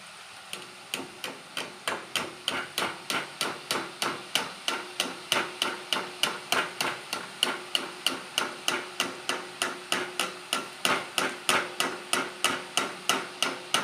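Boondi is pounded to work in yellow food colour, a long steady train of sharp, evenly spaced thuds repeating dozens of times at close range.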